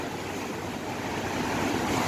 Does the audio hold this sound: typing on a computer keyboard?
no